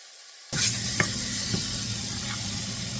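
Vegetables for pav bhaji cook in a pan with onions, giving a steady close sizzle that starts abruptly, with a few brief stirring clinks over it.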